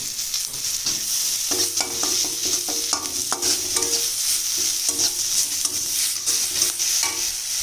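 Dal mixture with salt and turmeric frying in a pan, a steady close sizzle with repeated stirring scrapes and clinks throughout, no talk.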